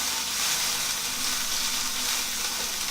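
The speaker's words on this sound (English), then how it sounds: "Just kind of saute it." Ingredients for Thai green curry sauté in oil in a pan, giving a steady, even sizzle and hiss that holds at a constant level throughout, close by with no talking.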